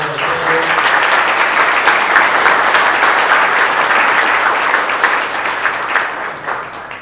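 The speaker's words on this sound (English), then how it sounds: "How about a round of applause for all the candidates?" Sustained applause from an audience at a candidate forum, loud and steady clapping filling the room for about seven seconds before easing slightly at the end.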